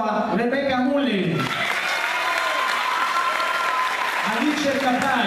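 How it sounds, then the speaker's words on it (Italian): Audience at a school concert applauds, a dense, loud burst of clapping filling most of the moment. A speaker talks briefly just before the applause and again just after it ends. "E un grande applauso a Rebecca Mullin"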